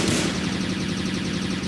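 Rapid pistol gunshots in the Roblox game Zombie Rush, a dense continuous burst of loud sharp reports with a strong attack at the start, no voices.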